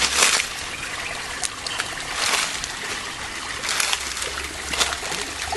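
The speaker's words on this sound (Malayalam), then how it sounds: "ഈ കാണുന്ന ചെറിയ അരുവി" A small forest stream running after rain, giving a continuous close trickle and light splashing of water with no voices.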